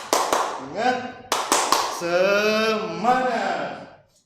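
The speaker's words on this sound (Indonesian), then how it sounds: "Tepuk semangat." A classroom performs 'tepuk semangat' spirit clapping, with sharp, rhythmic claps in quick bursts alongside chanted voices.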